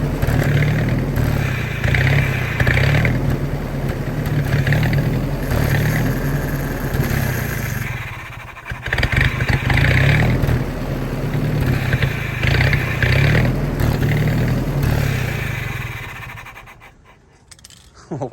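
Old army generator engine running after a prime, a steady loud mechanical drone with a low rumble that holds for about sixteen seconds, dipping briefly midway before fading and cutting out near the end.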